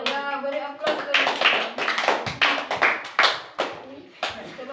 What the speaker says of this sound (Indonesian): Ya, beri aplaus dulu.